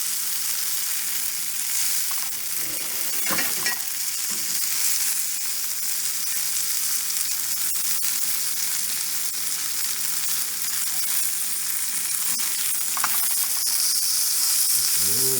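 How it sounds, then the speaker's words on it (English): Homemade sausage sizzles and crackles steadily in a hot pan, a continuous bright hiss with occasional scraping and stirring sounds. "Let's go inside and fry some of this up."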